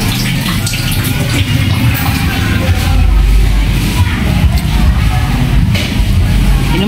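Water gushes steadily from a tap in a home restroom, loud and close, with a brief voice or yell faintly underneath.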